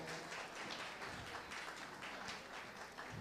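An audience applauds at the Miss Haiti 2022 pageant final, a steady wash of clapping from a large crowd that holds at an even level for a few seconds.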